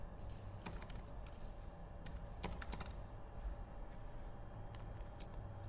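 Keys clatter in a quick, irregular burst as someone types on a computer keyboard at a desk, the clicks faint and close against a steady low background hum, with no voices.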